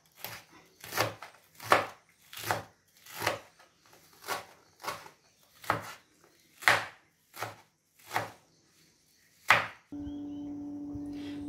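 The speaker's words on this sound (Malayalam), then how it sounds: "പൂവ് ഇങ്ങനെ ചേർത്ത് പിടിച്ചിട്ട് നമുക്ക് ഇതുപോലെ അരിയാം" A knife chops bunched pumpkin flowers on a cutting surface for thoran in about a dozen crisp, evenly spaced strokes, close and clear, followed by a steady low hum.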